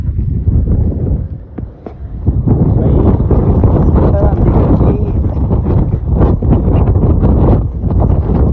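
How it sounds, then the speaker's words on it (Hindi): Strong gusting wind of a dust storm buffets the microphone in a loud, continuous roar with rustling, easing briefly near the start before building again; a voice is faintly present. "इसे कहता है दादा इस आंधी।"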